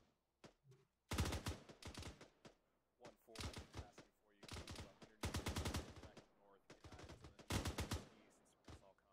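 Rifle and machine-gun fire in the ARMA 3 military game, bursts of sharp shots in clusters with brief pauses, fairly close and loud, with some faint radio chatter in between.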